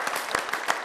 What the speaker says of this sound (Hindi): लेकिन हम आपके लिए कुछ तालियां बजाते हैं